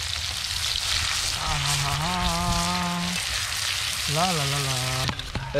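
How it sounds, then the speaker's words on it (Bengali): Chopped onion sizzles in hot oil at an outdoor picnic cook-up, a loud, steady frying hiss close by that runs throughout, while a voice talks briefly over it partway through. "তেলের মধ্যে দিয়ে দেবো গরম গরম পেঁয়াজ চলে গেল তেলের মধ্যে গরম গরম পেঁয়াজ"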